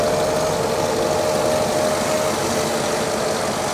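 A 2008 Mercedes SLK 55 AMG with a 5.5 litre V8 idles close by, a steady loud rumble with a faint whine, constant throughout the short stretch and heard alone.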